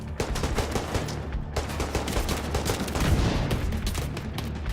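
Dense, continuous gunfire fills a Division 2 firefight, rifles and pistols rattling in rapid overlapping bursts with steady loud intensity and no pauses.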